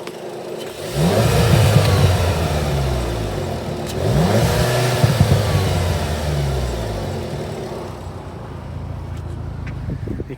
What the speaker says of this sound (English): I'm just going to rev my standard intake before I put the AliExpress one in